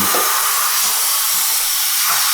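A steady, forceful steam hiss from an espresso machine steam wand runs the whole time, loud and continuous, with faint low thumps underneath.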